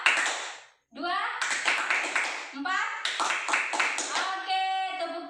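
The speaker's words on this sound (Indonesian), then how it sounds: "tepuk tangan untuk kita semua" Rhythmic hand clapping from a group of women during a health and nutrition class, sharp taps in a quick counted beat with voices talking over them.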